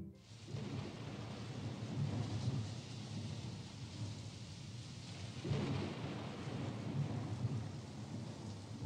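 Thunder rumbles through a thunderstorm with steady rain, loud, continuous and close throughout, with a fresh roll building midway and no voices.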